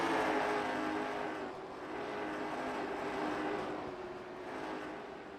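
Race cars running a lap in a racing video game, one tight on the back bumper of another, engines roaring in a steady rising and falling wash, fairly loud and continuous.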